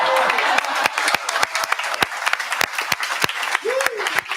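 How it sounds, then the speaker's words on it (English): Audience applause at a barista competition, with scattered sharp individual claps ringing out close by over a thinner crowd and some voices talking underneath. "One more round of applause for all of our competitors today."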